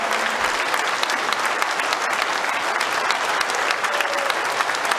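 An audience gives a standing ovation after an acceptance speech, with steady, dense applause filling the room throughout and no break in the clapping.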